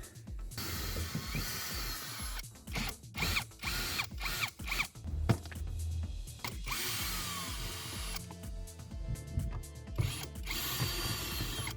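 A hand ratchet clicks in quick, repeated strokes close up while screws come out of a black interior trim piece on an Alfa Romeo Giulietta, with short pauses and handling noises between runs.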